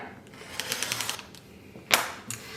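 A blade cuts fabric into strips along a ruler on a magnetic cutting mat, heard as a quick run of close, light rhythmic ticks followed by a sharper scraping swipe and a smaller knock.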